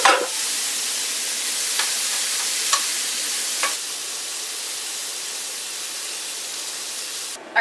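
Seasoned shrimp sizzling steadily in a hot pan, a constant bright frying hiss with a few soft stirring clicks and taps, no talking.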